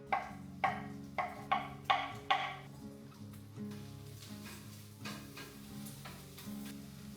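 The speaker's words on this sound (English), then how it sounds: "I'm gonna add mushrooms into the pan right now" Mushrooms tumble into a hot frying pan as a series of quiet, quick knocks, followed by a soft, low sizzle that continues faintly underneath.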